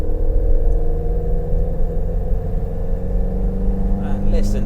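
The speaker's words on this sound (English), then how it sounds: "listen to that exhaust note as we power out through the corner" A Lotus 1.6 litre big valve twin cam engine pulls hard out of a corner, with a steady, rich exhaust drone and rumble that holds loud and close throughout.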